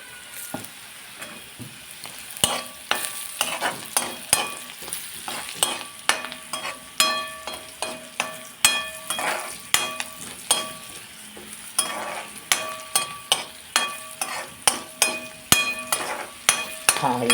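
Spices frying with turmeric in a pan: a continuous sizzle broken by repeated sharp clinks and scrapes of a spoon stirring against the metal, close and rhythmic, with no talk.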